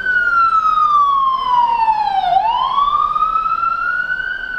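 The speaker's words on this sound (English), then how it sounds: "there's an ambulance" An ambulance siren wails near a gas station, its loud tone gliding steadily down, then sweeping back up as the vehicle passes, with no talking.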